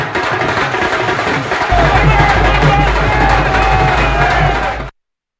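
Crowd cheering and whooping at BJP headquarters during the Delhi election results, a dense roar of many voices that swells louder partway through, with speech mixed in, then cuts off abruptly.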